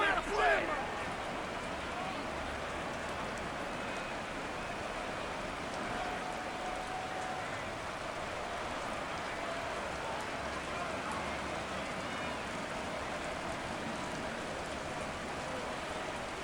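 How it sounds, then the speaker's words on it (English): Steady rain falling on a Madden 23 Jets vs Packers game: a constant, even hiss of rainfall carries throughout at moderate level, unbroken from start to finish. "Forecast calling for more of the same. The rain set to continue as we are underway in the second half."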